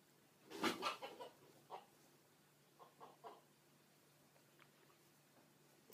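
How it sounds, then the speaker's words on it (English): Backyard chickens give a burst of loud, agitated clucks and squawks, then several quieter scattered clucks over a soft steady background. "Sounds like the chickens are being harassed."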